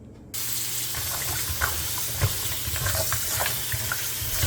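Steady running tap water splashes continuously after a brief quiet start, with occasional louder splashes and knocks as cow foot is rinsed under it.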